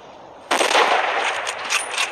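A sniper rifle shot in the mobile game Hunting Sniper, one sudden loud crack that opens into a rattling, rolling burst and fades into a lingering echo.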